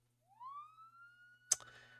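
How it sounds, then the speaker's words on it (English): A single faint rising police siren wail in the Fatal Twelve visual novel game, swelling up and holding its tone for about a second before a sharp click, alone over a low steady hum. "The faint ringing of police sirens can be heard from the surface."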